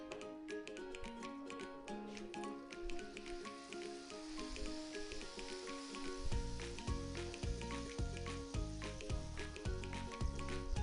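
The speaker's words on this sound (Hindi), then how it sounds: "जब तक हो रहा है फ्राई" Food frying in hot oil during a cooking show with Chef Iqbal Shah, a steady sizzle that grows louder and denser about halfway through, with faint clinks and tapping over it and no talk.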